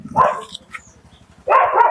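A street dog barks twice up close, two loud, sharp bursts separated by a short pause with faint noises between.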